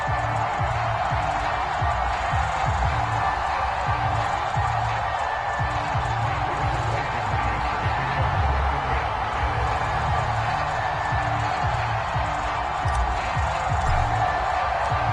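A home stadium crowd in a PS4 football video game, a Dolphins versus Colts matchup, keeps up a steady, even roar with no sharp peaks.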